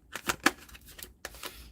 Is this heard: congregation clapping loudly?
no